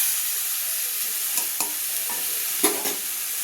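Lightly fried mango in a pan for sweet pickle gives a steady sizzle with a few short spatula scrapes and pops near the end, close and continuous, with nobody speaking.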